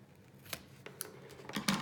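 Scissors trimming patterned paper for a handmade mini album, several crisp close snips spaced irregularly over a quiet background.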